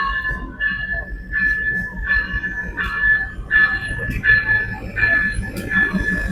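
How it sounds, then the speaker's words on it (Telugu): The excursion train at Stone Mountain park in Georgia arrives at its station with a rumbling approach under a repeating, evenly spaced ringing tone, while people nearby talk faintly in the background. "ట్రైన్ వస్తుంది చూడండి వెనకాల చిన్నగా వస్తుంది"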